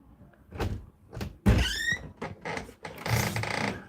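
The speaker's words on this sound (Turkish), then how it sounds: "İkide bir kapı ses geliyor ya çok gıcık oluyorum şu an." A door opening and closing with a squeak and a heavy thunk, followed by shuffling, rattling handling noises and a longer creaking scrape, all fairly close and fairly loud.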